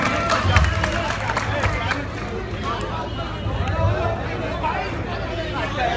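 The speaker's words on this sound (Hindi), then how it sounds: "जोरदार तालियां बजाएं दोस्तों" Applause from a crowd at an Indian poetry recitation event, a dense continuous patter of clapping mixed with hubbub and crowd chatter, steady and moderately loud throughout.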